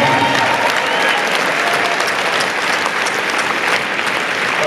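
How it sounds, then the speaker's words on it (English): Large audience at an award speech during a conference, giving a thick, continuous round of applause that stays loud and even throughout. "Let's give another super round of applause for him."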